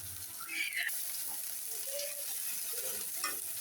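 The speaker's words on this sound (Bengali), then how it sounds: "এই তো দেখুন আমার মশলাটা ভাজানো হয়ে গেছে" Ground spice paste sizzles faintly in a pan for a homemade curry, a soft continuous hiss with occasional scrapes and light clinks of stirring, quiet and close with no voices.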